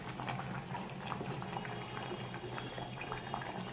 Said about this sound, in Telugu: చూసారా ఎలా బబుల్ వస్తుంది.